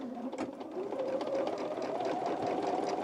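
A sewing machine stitches fabric for a blazer, a close, steady motorized hum with rapid needle chatter, running continuously and alone without talking.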